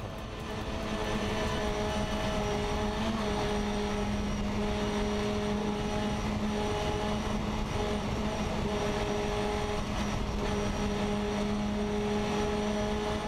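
Onboard the number 280 race car at the Franco Fun Festival 2022, the engine holds a loud, steady droning roar with sustained tonal whine, unbroken for the whole stretch and with no voices.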